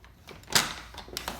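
A double door on a house or rental property opens with a sharp latch clack followed by softer rattles and thumps of the panels moving, close by and with no voices.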